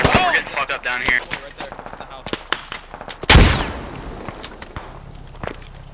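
Machine gun fire rattles through a Squad match, with repeated sharp bursts of shots and one heavy nearby blast mid-clip, while players talk over the combat.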